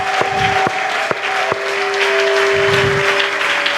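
Church congregation at a Sunday service applauding in praise, a steady wash of clapping with a few sharp, louder claps standing out and a sustained organ or keyboard tone under it.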